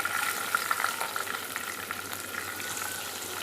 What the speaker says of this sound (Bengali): এগুলো একটু ভেজে নিব, ফ্লেভার বের হবে আলাদা।